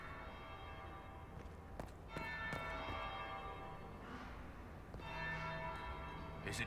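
Church bell tolls inside the Dragon Age Inquisition game, several separate strikes ringing out and decaying over a low ambient bed, with faint footsteps in between.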